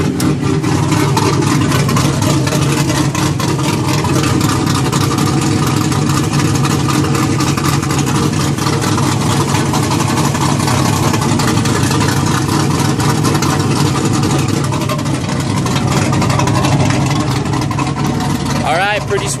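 A Pontiac GTO's 6.0 V8 with upgraded heads, cam and intake idles loud and close during a cold start with exhaust cutouts open, a deep, steady burbling rumble that continues without a break.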